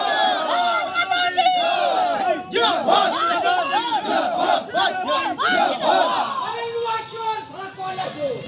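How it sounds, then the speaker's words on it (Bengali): An outdoor crowd outside a police station chants a 'thief' slogan at an arrested TMC leader, many voices shouting loud and close in repeated rhythmic bursts over constant crowd babble. "আর থানার সামনে ডিম হাতে চোর স্লোগান।"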